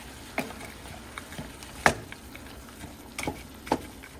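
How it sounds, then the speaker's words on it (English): A spoon stirring onion powder and other seasoning into food during home lunch cooking gives sparse scraping clicks and soft taps. A few sharper knocks stand out over a quiet background. "Give this a stir."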